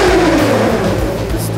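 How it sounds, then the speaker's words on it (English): A 300-horsepower rally-style race car without a handbrake revs its engine in a steady, loud, sustained roar, heard close up with no talking. "This is the sound of 300 horsepower."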